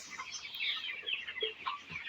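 Broiler chickens on a poultry farm cluck and chatter in a faint, busy chorus of overlapping short calls, with no talk.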